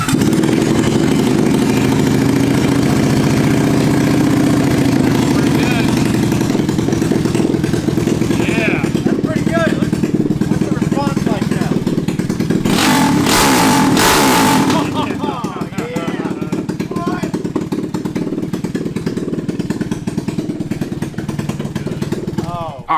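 Cheap mini Jeep fitted with a racing engine, running loud and close: a steady rough idle with a brief sharp rev midway, then settling back to idle.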